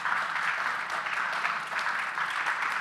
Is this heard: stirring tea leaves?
no